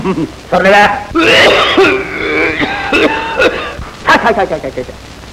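A voice talks, broken by harsh throaty coughs and throat-clearing, close and loud, a couple of rough bursts between phrases.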